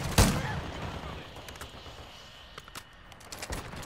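A shotgun fires in a video game: one sharp loud blast at the start, then scattered fainter shots and clicks trailing off.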